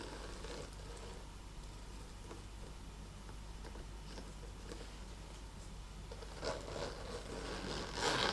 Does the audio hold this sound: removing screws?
no